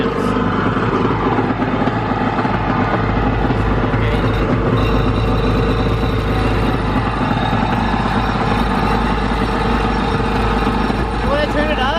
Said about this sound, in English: Need to idle around 1700 RPMs, and right now ours is at